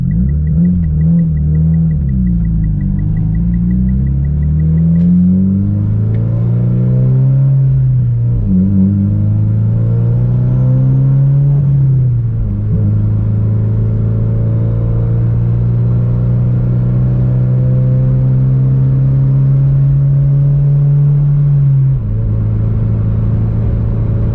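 A Mitsubishi Evo fitted with a brand-new, untuned engine revs steadily and loud throughout, its tone rising and settling in waves over a continuous rumble as the turbo starts to spool, with no voices heard.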